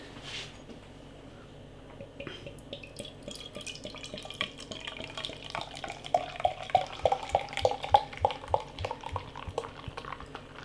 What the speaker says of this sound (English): So beer pouring out.